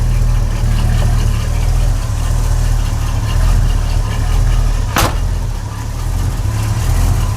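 A 1989 Chevrolet S10 pickup with a V-8 idles at about 650 rpm with a loud, steady, deep rumble, close by, with a single sharp click partway through.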